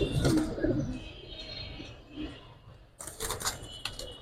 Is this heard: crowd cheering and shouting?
no